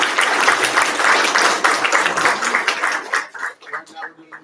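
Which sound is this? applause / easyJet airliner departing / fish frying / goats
applause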